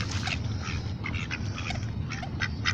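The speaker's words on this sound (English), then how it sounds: "You hear them? Quack, quack, quack, quack, quack, quack." Ducks quacking repeatedly while being fed by hand at a fishing retreat, a lively overlapping chorus of near quacks in quick irregular bursts against steady low background noise.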